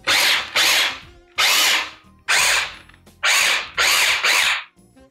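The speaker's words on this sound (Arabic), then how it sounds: "يا جماعه الخلاط مش بايظ" An electric kitchen blender chopping chicken quesadilla ingredients pulses in six short, loud bursts of whirring motor noise separated by brief pauses, with no talking.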